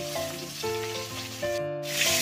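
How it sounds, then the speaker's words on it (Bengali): Fish in hot oil for a home-style curry gives a continuous soft sizzle under background music, with a brief dip in the hiss near the end. "মাছগুলো ভাজা হয়ে গেছে"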